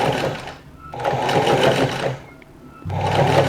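A sewing machine runs top stitching along a shirt collar in three steady whirring bursts, separated by short pauses, close and clear with no talking.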